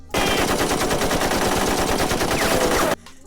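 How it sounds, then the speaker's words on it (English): Realistic machine-gun fire from the Japanese version of the Sonic X anime rattles loudly and rapidly for about three seconds, then stops abruptly. "Eggman's robots, gun soldiers, and human forces all fire weapons that sound like real bullets"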